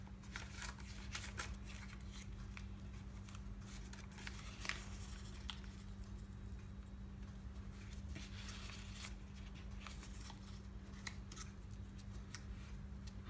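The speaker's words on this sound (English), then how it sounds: "each of these green tabs that's sticking down past the burnt umber there, we're going to fold that up" Green paper tabs being folded up one by one on a paper octacubahedron model, a steady run of crisp creasing and rustling crackles over a low constant hum, with no talking.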